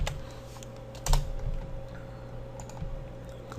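Search terms being typed on a computer keyboard, a run of light uneven key clicks close by with one louder heavier thump partway through, over a faint steady hum.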